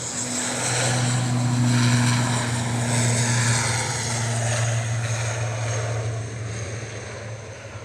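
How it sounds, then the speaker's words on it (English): An Aer Lingus airliner, registration EI-GPN, departs Manchester Airport for Dublin, its engines a loud steady roar with a sustained low drone and a slight pitch shift, fading a little toward the end with no talk. "Here we go, Aer Lingus departing."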